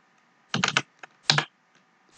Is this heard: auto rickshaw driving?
no